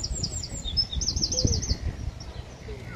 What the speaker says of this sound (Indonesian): Sambil dengar itu burung wren, dia lagi berkicau.